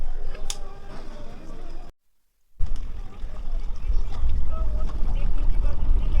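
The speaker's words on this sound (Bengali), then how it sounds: "এখন এই বোটটা সবে ছাড়লো" A tour boat pulls away in the Sundarbans in winter, its low engine rumble and water wash building steadily after a brief gap, with background noise throughout.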